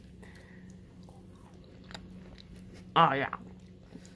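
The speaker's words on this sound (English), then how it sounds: "Time for the mukbang ASMR." Peeled fruit being chewed up close in a mukbang ASMR setting, with quiet wet mouth sounds under a brief spoken exclamation.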